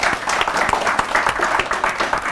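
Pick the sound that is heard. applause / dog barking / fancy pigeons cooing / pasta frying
applause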